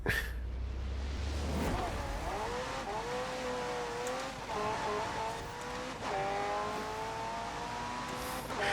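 A McLaren P1 in Forza Horizon 4 accelerates hard in a drag race, its engine climbing steadily in pitch through gear changes after a brief tire squeal at launch, loud and close.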